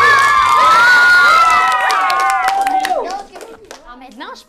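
Children in a crowd cheer, shout and clap for two teams at an environmental quiz game, a loud burst of high voices and applause that fades toward the end.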